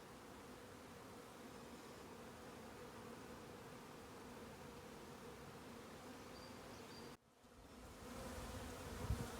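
Bees buzz steadily as they enter a newly made hive, a dense, soft, close humming swarm that cuts off briefly and then returns slightly louder.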